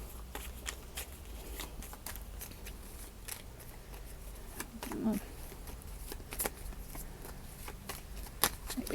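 Tarot cards shuffled by hand, giving a steady run of crisp papery riffles and soft slaps close up, with a person talking quietly in between.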